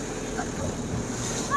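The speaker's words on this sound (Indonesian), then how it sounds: "Nih, ketika menabrak ombak tuh" Small boat pushing through choppy waves on Lake Maninjau in West Sumatra, a steady rushing wash of water and wind noise with a dull thump of the hull near the end.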